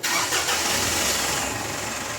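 A Mitsubishi Strada engine, just refilled with flushing oil, cranks and catches, settling into a steady, loud idle with a broad mechanical roar and no talking.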